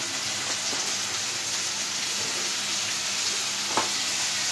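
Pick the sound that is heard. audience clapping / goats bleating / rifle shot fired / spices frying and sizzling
spices frying and sizzling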